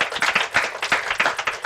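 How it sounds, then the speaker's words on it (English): An audience applauding to welcome panel speakers at a conference on U.S.-Korea innovation, dense steady clapping that is close and loud over a short burst. "Please give them a warm round of applause."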